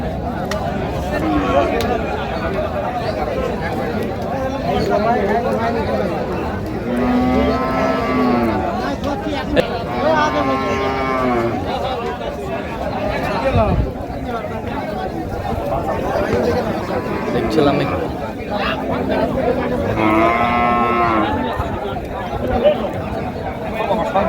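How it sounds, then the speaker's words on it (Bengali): Cows and calves moo repeatedly, several long calls close by, over a busy crowd chattering in the background at a cattle market in Raniganj, Dinajpur. "গাভী বাছুর"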